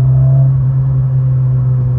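Renault Clio 16S cruising through a gentle curve, heard from inside the cabin as a steady low engine hum with road rumble, even and continuous throughout with no voices.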